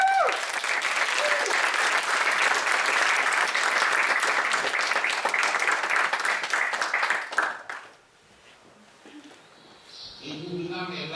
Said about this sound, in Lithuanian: aš labai norėčiau iš tikrųjų paprašyti jūsų visų pačiais šilčiausiais